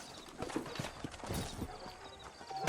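Horse hooves clip-clop at a walking pace in the video game Red Dead Redemption, fairly quiet, with a faint background hum and no voices.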